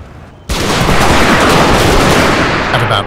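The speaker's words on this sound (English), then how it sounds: "the gunners bombarded the Zulu infantry with case shot, creating a killing zone in front of the lager" Artillery case shot and massed rifle fire roar continuously in a Total War battle between British troops and Zulu infantry, a dense, loud fusillade of overlapping shots that bursts in suddenly after a quieter opening.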